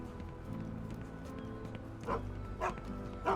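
A dog in a video game barks in a few short, sharp woofs over a low, rumbling game background, the barks growing more distinct toward the end.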